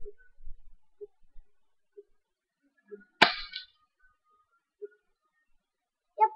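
A single sharp BB pistol shot cracks out near and loud, set among faint scattered ticks and small clicks.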